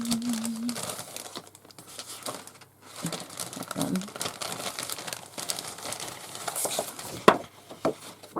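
Sheets of decorative paper for journal making are shuffled and rustled up close in a steady crinkling texture with brief sharper crackles.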